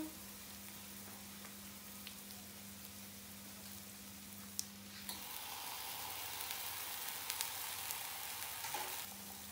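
Portobello mushrooms sizzle in a frying pan for a vegetarian burger, a soft steady crackle that turns louder and busier partway through, with a faint hum underneath.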